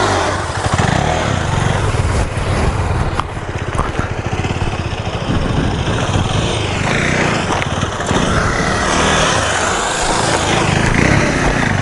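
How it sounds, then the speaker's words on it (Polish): A scooter engine runs close by as it rides in, a steady buzzing drone with slight revving swells, outdoors with some wind and rumble throughout. "Ja tu skuterem wjeżdżam."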